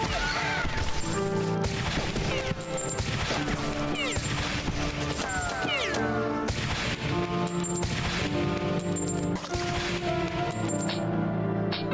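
Gunfire from a first-person shooter weapon in Beyond, with burst-mode and zoom options, crackling in dense repeated volleys over a constant loud game soundscape for the full stretch.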